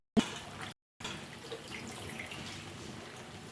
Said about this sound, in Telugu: ఇప్పుడు చికెన్ వేసుకోవాలి చికెన్ బాగా కడిగి